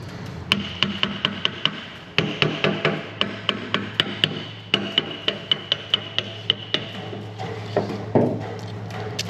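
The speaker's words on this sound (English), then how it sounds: "There's a brass hammer right here by Hunter." Sharp metallic brass hammer strikes ring out in a steady series on a John Deere 450G dozer during transmission work, some quick and some spaced, with a short pause partway through.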